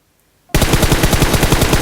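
Sustained automatic gunfire from PUBG Mobile bursts in abruptly after half a second of silence, loud, dense and rapid, continuing without a break to the end.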